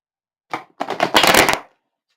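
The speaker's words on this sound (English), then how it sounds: "Final shuffle." A quick riffle shuffle of a card deck, with a couple of brief flicks and then a dense, close burst of papery clatter that ends sharply, no voices.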